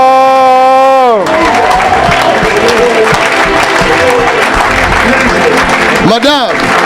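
An audience at an evangelical gathering breaks into loud applause and cheering, a dense sustained wall of clapping and crowd noise following a fading held tone, with voices and babble mixed in.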